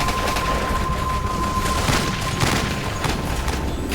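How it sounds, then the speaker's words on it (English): Heavy mortar fire in combat against Al-Qaeda, with dense, continuous rumbling blasts and repeated sharp impacts stacked over one another, loud and close throughout. "They are under heavy mortar fire"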